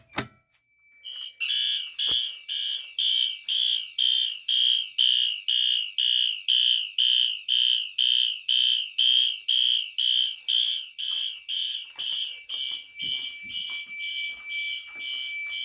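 A fire alarm system triggered from a VG12LX pull station sounds loud and close with a steady, rapid pulsing tone after a brief click, repeating without pause and easing slightly toward the end, with no talking.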